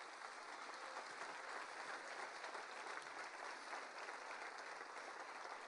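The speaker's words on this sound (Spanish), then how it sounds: "Denle un aplauso al Señor." A church congregation applauds in a steady, even wash of clapping that holds for several seconds without rising or fading, heard from a distance and fairly quiet.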